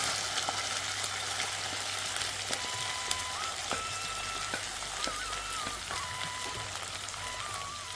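Sliced onions and green chillies sauté in oil for a salmon fish curry, making a soft, even crackling sizzle throughout with occasional faint clicks and light pan taps.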